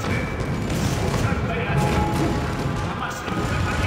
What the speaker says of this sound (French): Alors, on leur détruit leur tourelle.